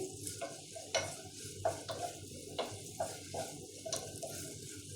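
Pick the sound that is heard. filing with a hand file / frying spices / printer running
frying spices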